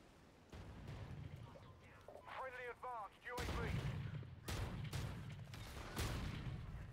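Proteus sniper rifle in Call of Duty: Infinite Warfare, firing heavy booming shots in a busy hardcore match, with sustained loud reports around mid-clip over game effects and a brief synthetic whine.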